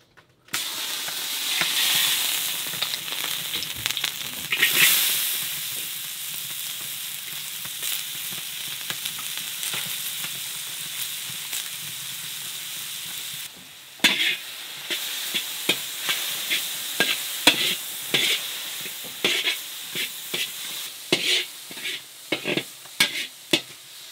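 Sesame oil and coconut fat sizzle in a pan on a mini wood stove with a steady, loud frying hiss, then sharper crackles and stirring scrapes after a brief dip midway.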